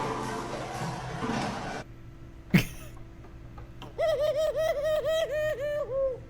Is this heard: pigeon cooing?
yes